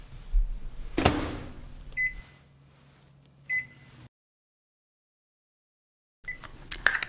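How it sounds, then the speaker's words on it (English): A microwave oven steams broccoli in a covered, vented bowl on its steamed-vegetable setting. Close button beeps and a low running hum stop abruptly into silence, and more beeps follow. "heat using your microwave button options for steamed vegetables"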